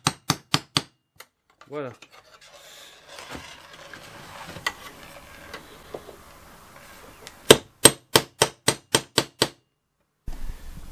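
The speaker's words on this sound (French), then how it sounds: "avec un petit pointeau faire des petits avant-trous pour que ça puisse ne pas riper au moment où je vais visser" A center punch is struck with a hammer to mark pilot holes for screws while building a fold-down table extension for a camper van: quick runs of sharp metallic taps open and close the passage, with quieter handling between and a brief spoken word.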